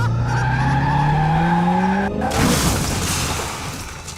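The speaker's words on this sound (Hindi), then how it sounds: "बाबा ने तो अपनी बाइक की टक्कर से शैडो को ठोक दिया है।" Cartoon motorbike crashing into a shadow: a loud engine whine gliding downward in pitch like skidding tires, cut by a sudden harsh impact, then a noisy, fading rumble.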